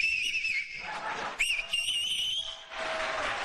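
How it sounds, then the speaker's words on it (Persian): A man whistles loudly with fingers in his mouth: piercing, shrill blasts that waver in pitch, with a short break and then a long sustained whistle, close and dominant. "این آقا سه تا انگشتشو یا دو تاشو گذاشته تو دهنش داره سوت میزنه"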